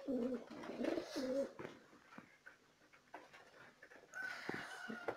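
Pigeons kept at home cooing in soft, low, throaty bursts, several repeated calls close by with a few faint clicks and rustles between them.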